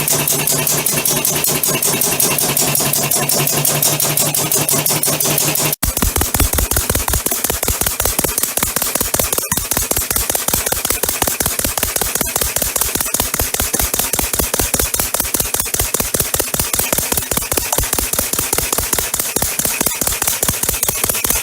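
A compressed-air eccentric drive air engine runs steadily with a fast, even mechanical chuffing and clatter, loud and close throughout, with a sharp click partway through.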